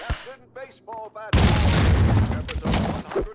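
Gunfire from the video game Max Payne 2 bursts in suddenly after a stretch of talk, a loud, sustained, dense volley with a few sharper peaks near the end.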